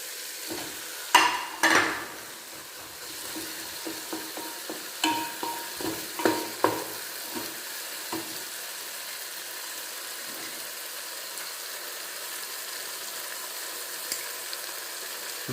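Chicken frying in a pan while being stirred for chicken majboos, heard as a soft, even sizzle with a cluster of scraping stirring strokes early on that fade into a quieter steady hiss.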